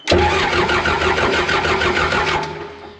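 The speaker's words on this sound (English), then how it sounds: "Go ahead and crank it a little bit." A John Deere military dozer engine cranks continuously and loudly for about three seconds, a steady rhythmic churning that never catches, then winds down at the end.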